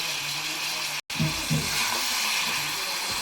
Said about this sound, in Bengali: গুঁড়ো ঝাল দিয়ে একটু নাড়বে